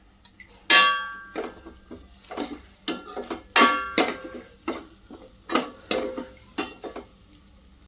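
A spoon stirs homemade masala and coriander spice mix in a pot for Makar Sankranti bhogichi bhaji, giving a run of close, distinct clinks and scrapes against the metal at an uneven rhythm, with no talk.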